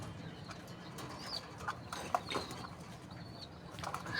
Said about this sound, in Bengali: তো কবুতর গুলো দেখছো বাবা, কবুতর বাচ্চা,